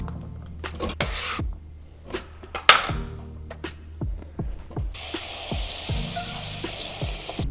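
Beetroot pieces go into a pan with a series of knocks and clatters, then a bright, even sizzle takes over and holds steady.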